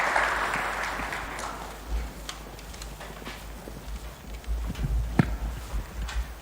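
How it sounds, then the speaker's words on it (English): Applause from a standing audience at the end of a national speech in Kenya, with scattered clapping and thumps rising and fading in uneven bursts over a few seconds, fairly distant. "this deserves another standing ovation and a clap"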